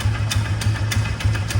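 Old Polaris Ranger utility vehicle engine idling with a worn cam exhaust lobe, a close, loud low chug with a regular ticking knock repeating about three times per second.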